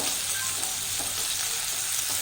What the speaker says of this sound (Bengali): গরম মশলা গুঁড়ো জিরে গুঁড়ো আর বেটে রাখা আদাটাকেও দিয়ে ভালোভাবে কষিয়ে